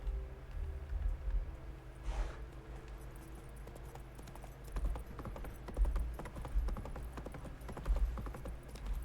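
Roach, a horse in The Witcher 3, trots along with steady clip-clopping hooves, close and fairly loud, over a low ambient game soundscape with no talking.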